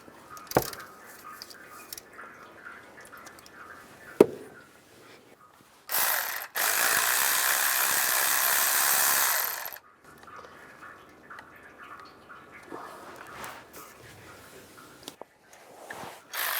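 A ratchet loosens bolts on a 2002-2008 Dodge Ram 1500 during a water pump bypass tube replacement, giving scattered close metallic clicks and knocks, then a loud few-second whirring burst of ratcheting before quieter handling noises.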